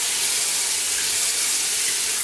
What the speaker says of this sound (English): So I'm gonna rinse it a few times